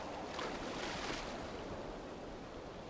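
Ocean waves in the Valheim video game wash steadily as a broad, continuous surf hiss with some wind-like rushing, moderately loud and with no talking.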